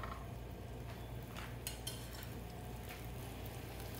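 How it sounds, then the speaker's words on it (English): Potatoes frying in hot oil in a pan, giving a continuous dense sizzle with faint clinks of cookware over a low steady hum. "I'll pan fry the potatoes"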